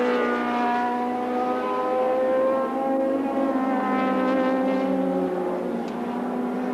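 Thundersports racing cars at Brands Hatch in 1985 approach Clearways onto the Brabham Straight on the final lap, a sustained engine whine heard from a distance that slowly climbs and shifts in pitch as they pass.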